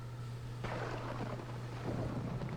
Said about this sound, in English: Whoa, what a storm.